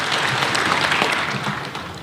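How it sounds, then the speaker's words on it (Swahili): An audience at a county assemblies forum annual general meeting at KICC applauds the President in a dense, steady burst of clapping that fills the whole moment. "Tafadhali pigeni Mheshimiwa Rais makofi."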